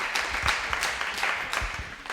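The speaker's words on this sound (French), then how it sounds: "vous pouvez applaudir" Audience applause greets bowling players being introduced at the 2018 QubicaAMF mixed team challenge, a steady wash of many hands clapping in an indoor arena, moderately loud and continuous throughout.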